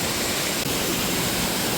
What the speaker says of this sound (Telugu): ఫుల్ వర్షం పడుతుందండి